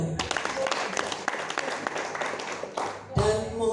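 Audience applause at a company success-story event at PT. BEST, steady broadband clapping for about three seconds, ending abruptly as a voice begins to speak.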